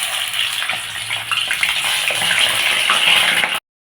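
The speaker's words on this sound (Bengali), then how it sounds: "এখন আমরা মাংসটা একটু ভেজে নেব। তেল গরম হয়ে গেছে," Chicken pieces frying in hot oil for chicken biryani give a steady, fairly loud hiss and crackle that runs without a break for about three and a half seconds, then the sound cuts off abruptly.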